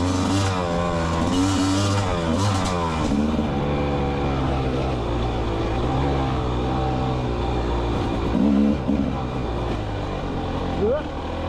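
Rieju MR300 Pro 300cc dirt bike engine on off-road trails, a steady close engine drone with small throttle swells and revving, continuous throughout.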